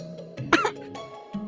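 A man drinking tea on a sofa coughs suddenly, one harsh close burst with a short throaty tail in a quiet room.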